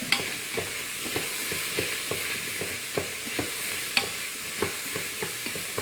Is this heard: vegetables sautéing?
yes